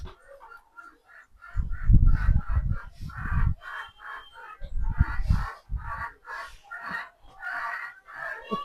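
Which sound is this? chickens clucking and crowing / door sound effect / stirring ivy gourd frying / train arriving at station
chickens clucking and crowing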